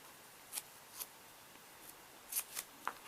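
Scissors cut a piece of 1-inch tape with about six quick, faint snips, close by in a quiet room.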